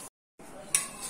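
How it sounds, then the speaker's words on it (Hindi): Dishes, pots and pans are washed at a kitchen sink, with water noise and a single bright clink of metal against metal during a very short stretch. "कितनी मेहनत लगती है बर्तन धोने"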